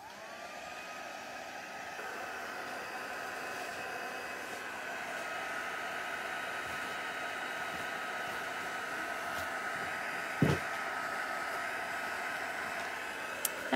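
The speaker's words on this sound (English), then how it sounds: "hit them off with the heat gun" A heat gun blows steadily over alcohol ink cards, a constant whooshing hum held at an even level throughout, with one brief knock partway through.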